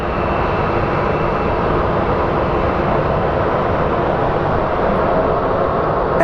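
A jet airplane roars steadily and loudly at Sky Harbor International Airport in Phoenix, a constant broad engine rumble that holds level throughout, with no voices over it.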